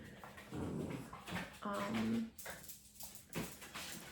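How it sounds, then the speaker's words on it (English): A pet dog whimpers and whines in short, high, faint bursts, with a few soft yips between them, close by in a quiet room. "That's my doggy. I have 2 dogs"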